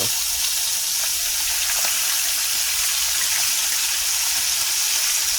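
Strips of bacon for a bacon cheeseburger fry in a hot pan, giving a steady, loud, close hiss and crackle that continues evenly with no talking.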